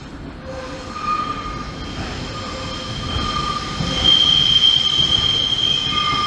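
A Northern train pulls into Lincoln Central station, its wheels squealing loudly and steadily against the rails, with a high screech building toward the end over a constant rumble.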